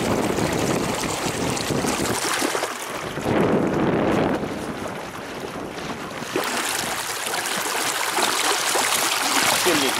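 Boat running across open water under a Haswing Osapian 36 lb electric outboard motor at full speed, with a steady rush of water and wind buffeting the microphone throughout, swelling briefly partway through.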